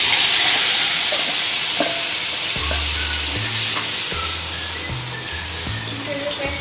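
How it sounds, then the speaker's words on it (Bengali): Onion paste sizzles in hot oil for a Bengali katla fish thali, a steady loud frying hiss with low thuds of stirring and pan contact, and faint speech beneath. "তেলটাও গরম হয়ে গেছে। এবার এটার মধ্যে পেঁয়াজের পেস্টটা দিয়ে দেব।"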